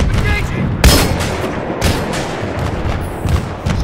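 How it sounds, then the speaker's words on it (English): An RPG rocket launcher fires in Battlefield 3 during a tank fight, with a sharp loud blast followed by repeated gunfire bursts and booms over dense, continuous battle noise. "I just fired off my RPG at this tank"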